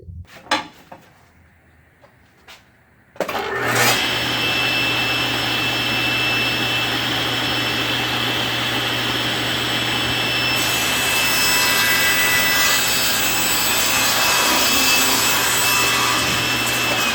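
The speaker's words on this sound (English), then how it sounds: "I'm going to take this piece of wood right here to the table saw to demonstrate a rip cut." A table saw makes a rip cut in a piece of wood, opening with a few faint knocks and handling sounds, then the blade starts up and runs as a loud steady whine while the cut goes through.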